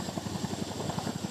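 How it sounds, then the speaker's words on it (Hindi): An Indian Air Force Chinook twin-rotor heavy-lift helicopter flies during a night operation, its rotors beating in a fast, steady thudding pulse over a continuous engine drone. "इंडियन एयरफोर्स के चिनूक हेलीकॉप्टर्स"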